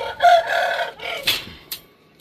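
Chickens at feeding time, with a rooster-like crow lasting about a second followed by a few short clucks and calls, close and fairly loud, on a rainy day.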